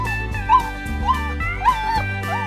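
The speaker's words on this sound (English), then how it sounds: "Oh no, my little doggy." A dog whimpering and yipping in repeated short, rising cries, close and fairly loud over a low background hum, with no speech, voiced for a Playmobil toy dog on a country farm.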